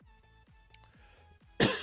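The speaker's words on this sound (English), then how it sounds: "Pardon me for the cough." A single sharp, close cough from a streamer during an NFL fantasy lineup broadcast bursts out at the end, after quiet background music.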